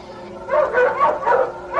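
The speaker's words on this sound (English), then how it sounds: "The dogs are onto something." Dogs bark and yip in repeated bursts while tracking something in a radio drama scene, mid-distance and fairly loud, with short gaps between volleys.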